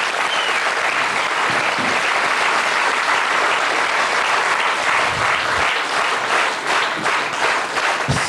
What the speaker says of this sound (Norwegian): Gi din applaus, det har de fortjent.